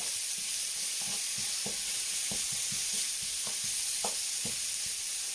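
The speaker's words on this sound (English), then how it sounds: "Give that a bit of a quick sizzle on the bottom of the pan." Garlic, chilli and ginger sizzle steadily in a hot pan for a stir fry, a constant bright hiss with small pops and scraping stirs breaking through.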